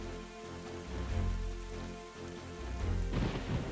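Steady in-game rain from The Legend of Zelda: The Wind Waker HD, a continuous hiss of drops on surfaces over low rumbling game ambience, moderately loud with no talk, swelling slightly near the end.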